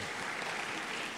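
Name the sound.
audience applause for a student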